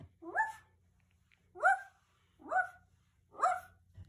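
A person imitates a dog barking: four separate yapping barks, spaced about a second apart, close and fairly loud against near silence.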